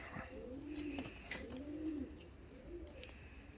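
Fancy and costume pigeons coo softly nearby, giving repeated low, rolling coos in a steady rhythm against a quiet background.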